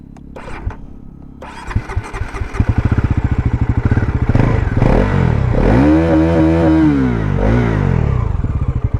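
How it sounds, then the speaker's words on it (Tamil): Bajaj Pulsar NS400Z motorcycle engine fires up, then its exhaust revs hard in rising and falling sweeps, loud and close, settling into a steady throaty drone with no talking. "ஸோ எக்ஸாஸ்ட் நோட் கேட்போமா?"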